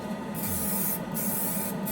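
Quick coat of clear sealer sprayed from an aerosol can over fresh paint on a 1968 Dodge Coronet plastic model car, heard as three steady close hissing bursts with brief gaps between them, no talk.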